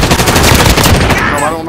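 Rapid automatic gunfire in Call of Duty: Modern Warfare, loud and dense bursts filling the whole moment, with a faint electronic tone near the end.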